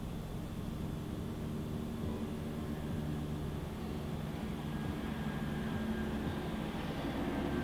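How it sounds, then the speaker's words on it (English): A steady, continuous low rumble of helicopters circling overhead, constant in loudness throughout with no voices. "The helicopters are circling like they're looking for suspects."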